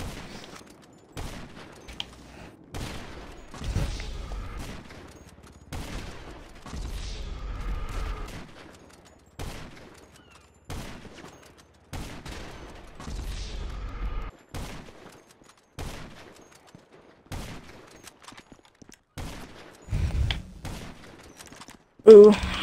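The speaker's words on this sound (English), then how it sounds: "Like I said, snipers only." Rifle shots from sniper rifles in a GTA Online match sound as a string of sharp, separate cracks across the clip, close and punchy, mixed with game noise and bits of talk.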